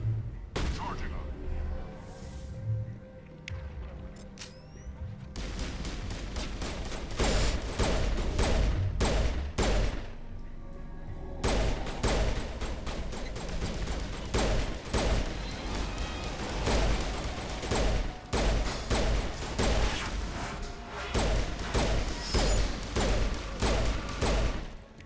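Rapid bursts of gunfire from the video game Mass Effect Legendary Edition, played on Insanity difficulty, crack repeatedly in dense clusters with short pauses, loud and close, mixed with game sound effects and music.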